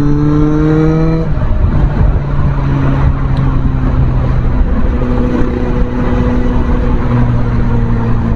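A Suzuki Bandit 650 motorcycle engine revs up and shifts through gears, its pitch climbing in steps and dropping between shifts, loud and close with steady road and wind noise underneath.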